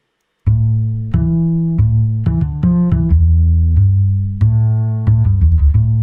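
A synthesized afrobeat bass line plays alone, a string of sustained low notes with sharp attacks shifting in pitch at a steady, moderate pace.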